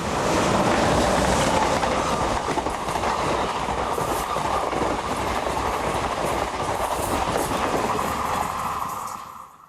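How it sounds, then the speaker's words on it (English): Catalan Talgo passenger train from Montpellier to Barcelona, hauled by locomotive 7298, rolling past close by with loud, continuous wheel rumble and clickety-clack that fades at the very end. "Number 7298 is seen in charge of the Catalan Talgo from Montpellier to Barcelona"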